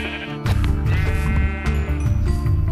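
Sheep in Minecraft bleat in quick succession, loud and close, their wavering cries overlapping over a low background bed of game sound.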